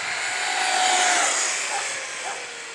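An Arrma Typhon 6s RC buggy fitted with a 12-tooth pinion screams past at full throttle, a high, steady electric motor whine swelling and then fading.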